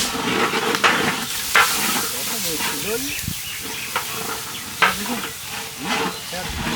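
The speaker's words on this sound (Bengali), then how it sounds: "হ্যাঁ মশলাটা ভুনা হয়ে গেছে, গোশটা দিয়ে দিলাম" Spice masala sizzling and being stirred in a large pot for a 25 kg chicken biryani cooked outdoors in a village, a steady frying hiss broken by scraping stirs, with some voices faintly in the background.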